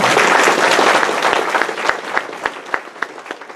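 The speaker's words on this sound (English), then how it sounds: "give them a good round of applause." Audience applause at a sheriff's department presentation honoring jailers and transport officers, a dense steady clapping that gradually thins into scattered individual claps.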